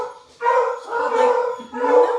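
Several of a household's seven dogs howl and bark together indoors in drawn-out, wavering bursts with a short pause between, fairly close and loud, with no talking.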